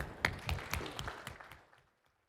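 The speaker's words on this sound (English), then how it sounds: "Please give a huge round of applause to our final panel" An audience at an AI agents panel event claps in a brief burst of applause that starts strong and fades out within about two seconds, with no voices.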